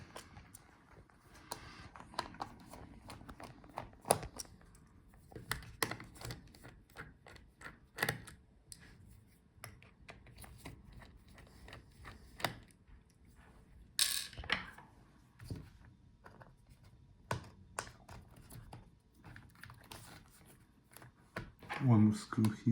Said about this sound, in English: Now let's take out all the screws for the battery.